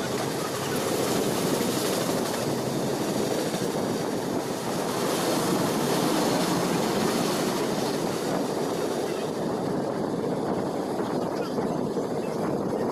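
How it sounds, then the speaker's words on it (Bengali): A train pulls into Deen Dayal Upadhyaya Junction with a continuous broad rumble and rushing noise that stays loud and steady the whole time. "ট্রেনটা 9:14-তে ঢোকার কথা ছিল, 9:10-এ ঢুকেছে"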